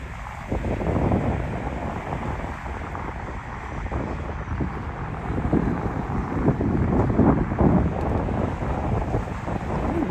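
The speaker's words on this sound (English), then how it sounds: "Windy in this little stretch." Gusting wind buffets the microphone on an outdoor walk through a distillery district in Lexington, Kentucky, a steady loud rumble with swelling surges and no talking.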